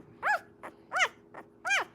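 Six-day-old puppies give three rising-and-falling squeals with shorter soft grunts between them, close and clear, with a faint steady hum underneath.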